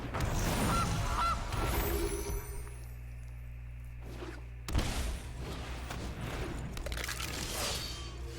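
Goose honking as a Goose card is played in a Magic card video game, several loud nasal honks and flapping bursts up front, then a quieter stretch and another burst of honking and clatter.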